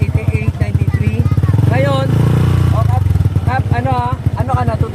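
A motorcycle with an aftermarket muffler revving around 2,500 RPM, its rapid throbbing exhaust pulses close and loud, rising and holding in the middle while people talk over it.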